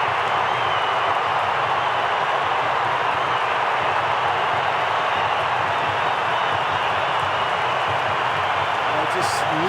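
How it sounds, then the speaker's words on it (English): A huge crowd at the MCG roars and applauds during an Australia vs India Boxing Day cricket Test, a dense, sustained wash of cheering with commentary over it. "Just listen to the crowd here at the MCG."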